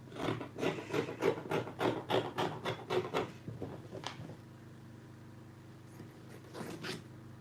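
Fabric is cut open with scissors for a gown pocket, producing a quick run of regular, close rasping snips that then give way to a couple of softer, isolated strokes over quiet room tone.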